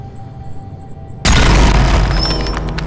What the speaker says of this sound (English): Another explosion right next to my face.